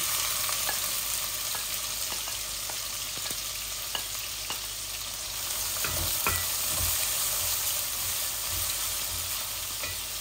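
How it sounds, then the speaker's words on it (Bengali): Medium-sized onion sizzling steadily in a pan while cooking a Bangladeshi rui fish dish with radish and flat beans, a continuous close fry hiss broken by occasional stirring scrapes and clinks. "আমার পেঁয়াজগুলো একটু ভাজা ভাজা হোক"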